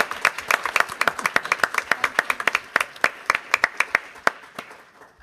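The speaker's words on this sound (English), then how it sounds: "So let's give Jamie White a round of applause for that." A small audience at a school board meeting claps for several seconds, the individual hand claps distinct and close, then thins and fades out.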